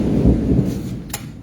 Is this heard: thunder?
yes